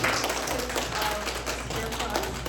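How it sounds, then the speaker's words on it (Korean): A church retreat audience clapping to welcome a pastor, a quiet, fairly distant patter of many hands that holds steady throughout. "Let's clap for Pastor Sei"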